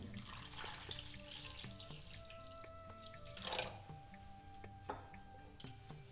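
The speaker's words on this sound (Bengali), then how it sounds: "সুজিটা এখন আমি জল দিয়ে একটু ভিজিয়ে রাখবো" Water poured from a tap into a bowl of semolina to soak it in a home kitchen, a soft trickling run with a louder splash midway and a few faint drips, with no talking.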